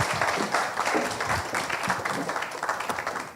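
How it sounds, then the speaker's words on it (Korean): Audience applause welcoming an author onstage at a book launch concert of talk and live music, a dense, steady wash of many hands clapping that fills the whole stretch at moderate volume. "큰 박수로 환영해 주시기 바랍니다"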